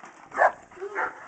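A bulldog attacking a go-kart seat gives two short, fairly close barks or yips about half a second apart.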